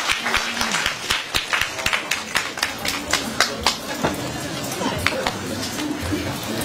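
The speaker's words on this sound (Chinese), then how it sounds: "谢谢您的掌声鼓励。" An audience claps at a Beijing crosstalk show at Guangmingge: a steady run of sharp claps lasts throughout, moderately distant, with voices talking faintly underneath.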